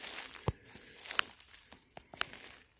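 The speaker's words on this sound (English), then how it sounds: "That's the other footsteps you're hearing." Scattered footsteps crunch on outdoor ground, uneven and spaced out, with faint insect buzz and a steady high hum in the background.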